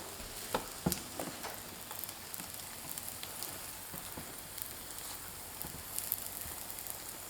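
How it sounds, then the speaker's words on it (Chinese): Small flatbread pancakes pan-frying for breakfast, a faint, steady sizzle with a few soft taps and shuffles as the cakes are moved in the pan. "烙至小饼的底面定型，我们给它错一下位置，让小饼受热均匀。"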